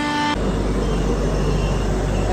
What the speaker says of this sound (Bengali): এই আমাদের ট্রেন এইমাত্র ছেড়ে দিল কানপুর সেন্ট্রাল থেকে।